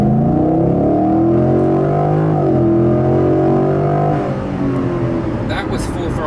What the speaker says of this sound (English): That was full throttle to 60.